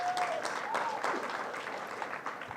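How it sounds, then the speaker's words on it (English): Audience applause at a national economics debate tournament break announcement, a steady wash of clapping across the hall lasting a few seconds, with a voice faintly audible over it. "We clap for them."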